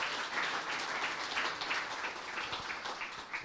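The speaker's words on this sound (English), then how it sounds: "Let's get a big round of applause for Eid Bailey with Josh and Adam." Audience applause for Eid Bailey with Josh and Adam at a Silicon Slopes finance chapter event, a dense, steady patter of many hands clapping at moderate distance throughout.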